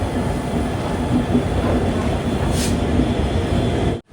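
A train pulling into Guwahati railway station in Assam gives a steady, close rumble of wheels and carriages that runs without a break, then cuts off abruptly near the end.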